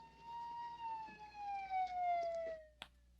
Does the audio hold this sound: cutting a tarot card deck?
no